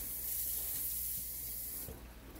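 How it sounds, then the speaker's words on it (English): Tap water runs steadily into a kitchen container, a close, constant hiss and splash that eases off near the end, with no voices. "I'm gonna put some water in here."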